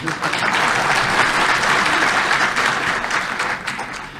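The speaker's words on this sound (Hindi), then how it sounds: "ये तो ताली ना बजाए, तो ताली तो बजाने दीजिए।" An audience at a speech in Bhopal applauds loudly and continuously, a dense, steady wash of clapping that slowly tapers.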